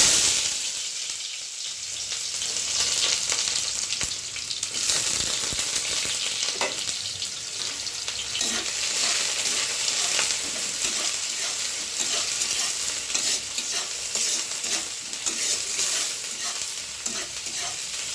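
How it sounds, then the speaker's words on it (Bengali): Onions fry in oil in a hot wok (kadai), a dense, continuous close-up sizzle with soft stirring scrapes throughout and no talking. "এই পেঁয়াজটা যে ভাজছি"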